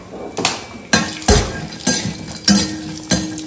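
Whole spices and cashews frying in a pan for coriander paneer gravy, heard as a series of about six sharp clanks and scrapes of a utensil against the pan at a steady rhythm, close and fairly loud with a faint sizzle underneath.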